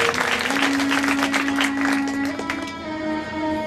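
An audience claps in thanks at the closing day of a Shiv Mahapuran religious gathering, with dense, loud applause that tapers off as a sustained tonal instrument rings on underneath.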